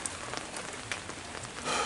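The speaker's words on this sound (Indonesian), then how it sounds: "suasananya itu sahabat lagi turun hujan ya" Steady rain falling outside a house in a rural village, a dense even patter on surfaces that swells slightly louder toward the end, with no voices.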